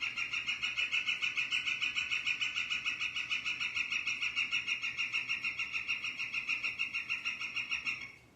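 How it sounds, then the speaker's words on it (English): A woodpecker calls during mating season on Vancouver Island: a loud, rapid, steady rattling trill of evenly spaced notes runs unbroken for about eight seconds, with no talking. "you might hear this woodpecker a lot right now. They're definitely making a ruckus."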